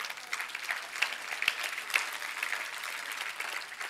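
An audience claps for the home team, dense continuous applause with a few sharper individual claps standing out, steady and fairly close, without voices over it.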